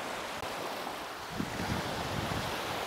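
Steady roar of ocean surf and rushing water from a strong current at Kalanggaman Island, with wind noise, continuous and fairly loud, no voices.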